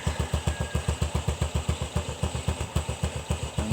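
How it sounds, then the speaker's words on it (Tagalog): A motorcycle engine runs at a steady idle, close and loud, with a regular chugging pulse of about four to five beats per second and a metallic clatter over it. "Tunog sa iyong makina"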